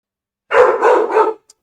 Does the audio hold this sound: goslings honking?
no